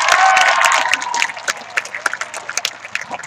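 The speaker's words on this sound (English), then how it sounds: "Let's get a round of applause for the Knights." An audience at a high school graduation ceremony claps and cheers for the school's Knights, loud dense applause at first that thins into scattered claps and a few shouts.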